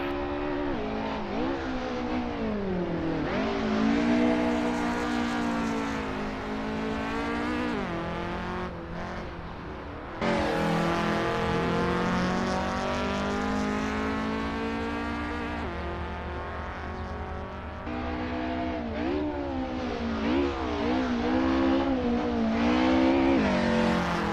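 An old 200 hp car engine in an Assetto Corsa racing game replay, revving up and down through gears in repeated rising sweeps, with brief lifts and occasional tire squeal, loud and continuous.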